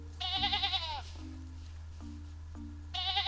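A sheep bleats twice, wavering calls separated by a pause, fairly close over a low steady hum.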